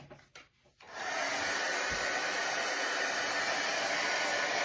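A hair dryer clicks on after a second of rustling and then blows a loud, steady whooshing roar close by for the rest of the time. No one talks.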